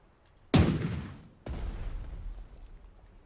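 Two heavy gun blasts from the Panzer Strategy war game, set in the Weserübung mission, fire about a second apart. Each sharp, loud boom rolls off into a long rumbling decay, with no voices.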